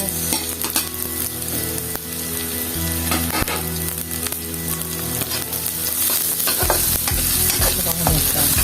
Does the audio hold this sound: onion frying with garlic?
yes